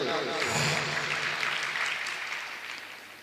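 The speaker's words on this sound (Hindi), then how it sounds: "बहुत सुंदर, ताली बजाओ जोर से" Loud clapping from a sermon audience, a dense wash of many hands that swells early then gradually fades, with a voice briefly heard at the start.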